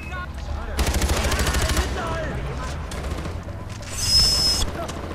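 Sustained automatic gunfire from a gun turret in the video game Far Cry 4, a dense rapid burst of shots followed by more scattered shooting and a later loud blast, with no talking.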